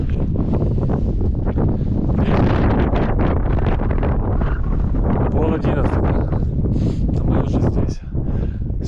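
Strong wind blows across a mountain top high on a route between Ossetia and Kabarda, buffeting the microphone in loud, gusty rumbles with rustling, steady throughout.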